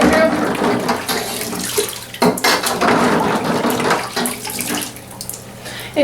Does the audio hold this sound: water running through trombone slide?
yes